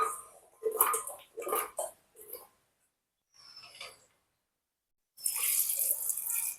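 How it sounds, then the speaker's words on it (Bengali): Water poured from a vessel over cut strips of peeled gathi kochu (taro) inside a pressure cooker, a short bright splashing rush at the end after several softer clinks and rustles of handling. "এবার একটু পরিমাণ মতো জল দিয়ে দিলাম"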